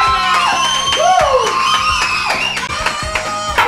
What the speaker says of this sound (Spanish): Un aplauso para Cristian que está aquí con nosotros.